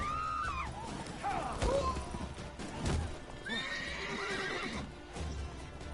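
Geralt's horse Roach in The Witcher 3 video game whinnies loudly several times, with hoof clip-clops and game ambience underneath.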